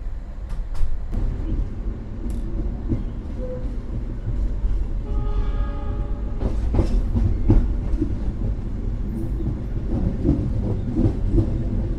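The KA Argo Semeru executive train runs steadily on its rails, heard from inside the carriage as a continuous low rumble with rhythmic clacks of wheels over rail joints and occasional sharper metallic knocks.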